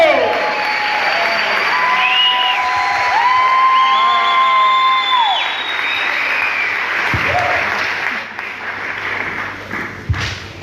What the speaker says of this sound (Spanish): recibamos a Nico con un fuerte aplauso